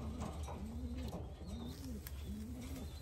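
A racing pigeon at a loft entry coos in a run of soft, rolling calls, three or four close phrases in steady succession over a low background hum.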